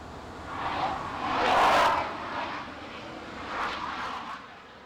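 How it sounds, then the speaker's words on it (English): An F-14 jet in the landing pattern at Oceana, Virginia Beach, passes at a distance, its broad roaring rush swelling to a peak and fading, then rising again more softly. "That's an F-14 coming into the break, circling downwind."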